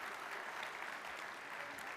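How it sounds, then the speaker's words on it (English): A church audience claps steadily, a dense, even round of applause from a crowd, heard at moderate distance with no talk over it. "Give them one more round of applause."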